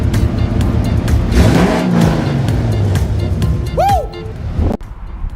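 A Chevrolet Camaro engine revving close by in a garage, loud rising and falling bursts with whooping pitch sweeps, ending in an abrupt cutoff.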